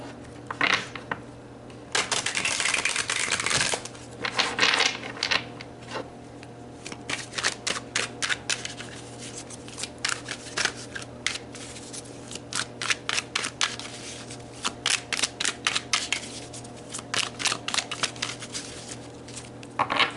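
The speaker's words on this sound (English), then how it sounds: "let's pull some cards to look specifically at the" Tarot cards are shuffled by hand for a reading, producing close, crisp riffling and snapping bursts in quick repeated rounds with short gaps, and no voice over them.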